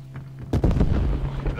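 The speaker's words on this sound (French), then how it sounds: "L'artillerie ennemie vous cible." Enemy artillery fire in Call of Duty: Black Ops Cold War: a heavy booming blast lands about halfway through and rumbles loudly, preceded by quieter game ambience and a low steady hum.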